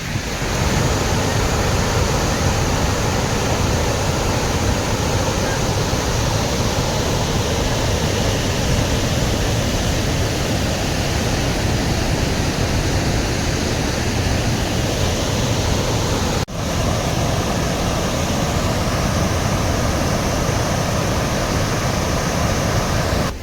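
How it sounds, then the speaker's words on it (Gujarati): Gira waterfall near Waghai on the Saputara road, swollen in the monsoon, roars as a loud, steady, unbroken rush of falling water close by, with no voices over it. "વાહ, કેવું કુદરતી સૌંદર્ય, કેવી રીતે ધોધ પડે છે જુઓ તો"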